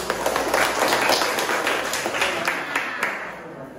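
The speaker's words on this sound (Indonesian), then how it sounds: "Tepuk tangan buat Adit" A middle-school science class claps for a student. The brief round of hand claps is moderately loud and scattered, fading toward the end with no talk over it.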